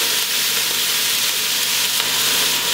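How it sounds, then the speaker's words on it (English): Beef chunks searing in a pot for Vietnamese beef stew give a loud, steady, close sizzle that holds unbroken throughout with no talk. "Now that your beef is nice and seared off"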